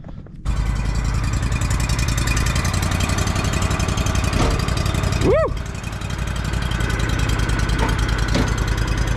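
A Walker lawn mower engine chugs steadily at close range, a loud rhythmic idle that runs throughout, with a short whoop of a voice partway through.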